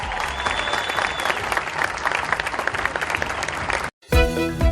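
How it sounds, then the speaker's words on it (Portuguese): A crowd applauds the women of Nissan with loud, dense clapping that cuts off abruptly near the end, followed by a brief burst of a different sound. "parabéns às mulheres da Nissan, que merecem um aplauso especial"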